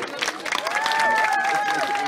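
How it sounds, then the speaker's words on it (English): Brief applause at a refugee support rally for the Syrian people, clapping swelling quickly from scattered claps into a fuller burst, with a faint tonal whine running through it. "Give a big round of applause for the Syrian people"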